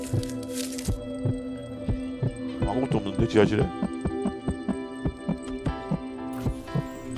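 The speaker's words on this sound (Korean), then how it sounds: "나 심장 소리가 쿵쿵쿵쿵 뛰어" A heartbeat sound effect in a Roblox horror game set in an abandoned psychiatric hospital. It thumps in a steady, evenly spaced rhythm, with a voice talking briefly over the middle.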